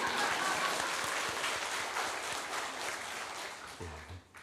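Congregation in a church, including the upstairs gallery, applauding in a steady, dense clatter of many hands that slowly fades, with a voice starting just as it trails off.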